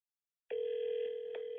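A telephone dial tone sounds on an outgoing call: a clean, steady tone that starts abruptly after a short silence and holds evenly at moderate level, with no talk.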